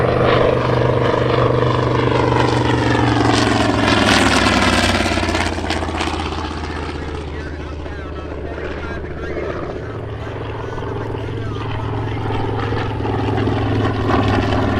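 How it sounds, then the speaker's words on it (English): A WWII TBM Avenger warplane passes at an airshow with a loud, droning radial-engine roar that swells and then eases as it goes by, with an announcer talking over it. "The fighters, as the TBM comes by again."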